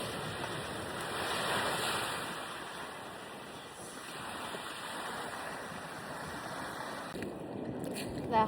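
Sea waves wash onto a beach in Ilocos Sur under a dark sky, giving a steady broad hiss of surf with gusts of wind buffeting the microphone and a brief clatter at the end.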